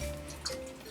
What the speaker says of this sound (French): On va arroser allègrement